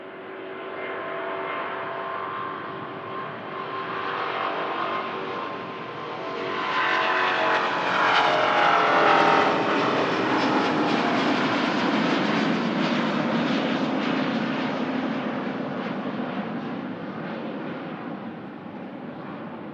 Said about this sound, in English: now the stunning Qatar A350.